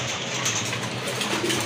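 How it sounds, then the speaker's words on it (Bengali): Pigeons coo softly and steadily in a loft among a pair of birds, a low murmuring call continuing throughout with a faint background hum. "প্রথমে এক জোড়া কবুতর দেখতে পাচ্ছেন"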